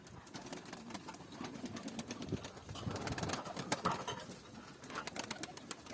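Pigeons cooing and shuffling nearby while being fed purslane greens, soft repeated coos under a background of pecking and light fluttering, no voices.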